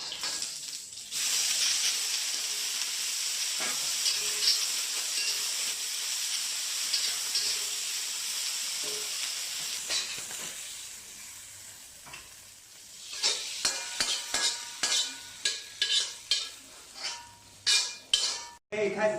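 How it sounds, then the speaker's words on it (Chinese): Wild greens stir-fried in a wok with garlic, a steady sizzle for several seconds followed by a run of sharp scraping and clanking strokes of the spatula against the pan. "爆炒一下。"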